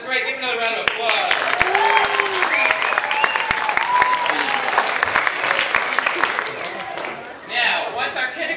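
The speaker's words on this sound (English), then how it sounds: "Give another round of applause." Audience applause at a school play, dense clapping with children's voices and cheers over it, a brief dip near the end before clapping resumes.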